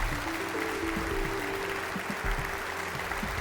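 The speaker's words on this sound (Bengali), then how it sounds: "জোরে হাততালি হয়ে যাক।" A crowd applauds during a police singing competition's elimination round: continuous, even clapping over a low held musical backing, with no voices standing out.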